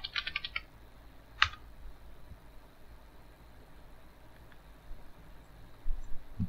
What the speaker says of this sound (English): So now type the localhost.